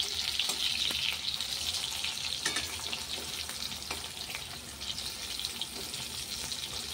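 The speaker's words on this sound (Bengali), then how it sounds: "এই দেখুন মাছ ভাজাটা হয়ে গেছে, আরও হচ্ছে কড়াইতে" Fish fries in oil in a wok, a steady, close crackling sizzle with occasional stirring clinks that runs throughout with no talking.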